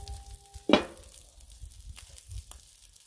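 Pizza cooks on a Blackstone griddle with a faint, steady sizzle. One sharp metallic clank rings out near the start, and the rest is quiet.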